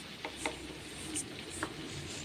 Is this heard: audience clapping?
no